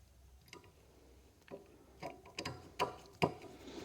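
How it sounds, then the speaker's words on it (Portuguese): A screwdriver turns a slotted screw back into the horn mount of a VW Beetle, giving a handful of close, sharp metallic clicks and scrapes that grow firmer toward the end, with no talk over them. "Vamos colocar o parafuso de volta aqui."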